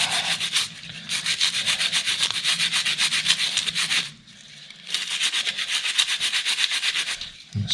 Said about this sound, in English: Let's just give them a quick rub.